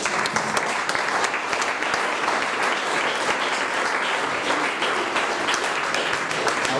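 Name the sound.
applause for Jesus in a church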